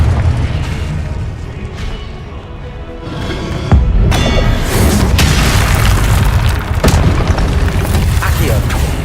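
Confringo spell blasts in the Hogwarts Legacy video game, booming explosive bursts and thumps over constant game noise, with a voice calling out spells alongside.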